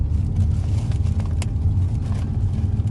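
A car descends a winding mountain road near Doi Suthep at about 47 km/h. Its engine gives a steady, close, low rumble throughout, with no voices.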